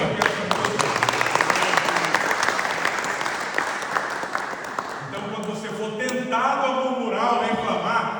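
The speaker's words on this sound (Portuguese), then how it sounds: "Você pode aplaudir." A church congregation bursts into applause partway through a sermon, clapping loudly and steadily before the sound thins out near the end as other sounds come up underneath.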